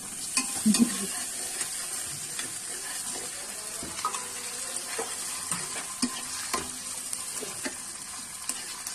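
Food frying and being stirred in a pan, a continuous low sizzle with scattered soft scraping and tapping of a utensil, close but fairly quiet, with no talking.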